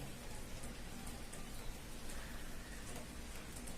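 Steady rain falling, a dense even hiss of drops with faint scattered taps, moderately quiet and unbroken throughout.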